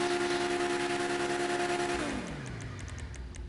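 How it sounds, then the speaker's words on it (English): A car fitted with a carbon turbo exhaust in GTA V revs with a loud, steady engine drone that drops in pitch and falls quieter as the revs die away, followed by faint clicking. "Carbon turbo exhaust."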